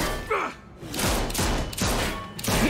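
Gunfire in The Walking Dead Season 3 video game: several booming shots and thuds come one after another, mixed with loud game sound and voices.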